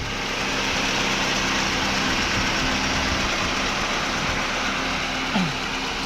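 An old car's engine idles steadily as a car is checked for purchase, a continuous low rumble held at an even level throughout, with a faint brief knock near the end.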